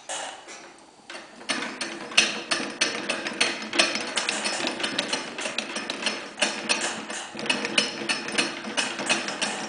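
A model anti-seismic pendulum house is shaken, giving a dense run of rapid mechanical rattling and clicking that starts after a quiet second and continues steadily and fairly loud to the end, with no talking.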